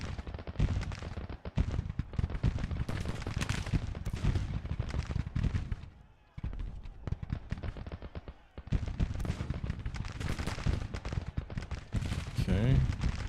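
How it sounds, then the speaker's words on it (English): Civil War artillery and musketry in Grand Tactician at the Battle of Fredericksburg: dense, continuous volleys of booming and crackling shots, a brief lull midway, then the barrage resumes, with no voices heard. "Artillery fire?"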